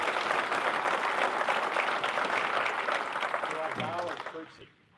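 Attendees at a driver's meeting give a sustained round of applause, dense clapping that tapers off as a voice begins speaking near the end.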